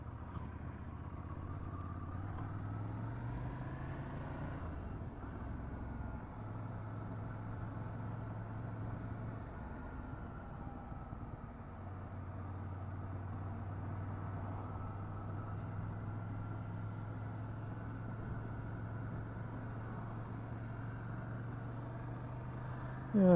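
A Ducati Scrambler motorcycle rides on a road in Scotland, its engine note a steady low hum that rises and falls smoothly through gear changes, with wind and road noise throughout.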